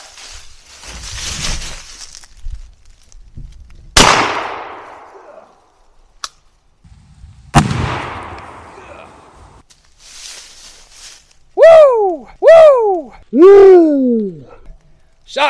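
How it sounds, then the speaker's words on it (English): Two loud, sharp blasts from a Winchester 1200 shotgun firing Federal Premium double-aught buckshot at a helmet, each leaving a long decaying echo, with scattered rustling between them and then a few brief rising whistle-like tones. "Got a Winchester 1200 here. We're gonna be shooting Federal Premium Double Alt Buckshot."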